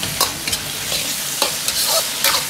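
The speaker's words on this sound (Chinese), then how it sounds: "下入切好的蒜苗段，翻炒均匀，炒出香味" Garlic sprout pieces stir-fried with egg and wood ear mushroom sizzle steadily, broken by several sharp scraping stir strokes at an uneven rhythm, close up with no talking.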